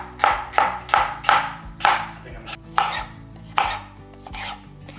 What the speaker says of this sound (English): Now, I'm just cutting them into strips.